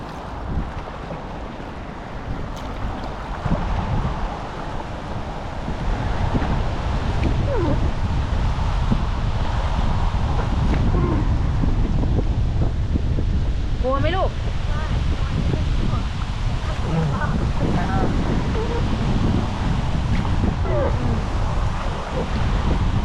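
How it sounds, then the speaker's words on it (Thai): Strong, steady wind roars and buffets the microphone while kayaking on open water, with splashing water mixed in throughout. "ลมไงลูก"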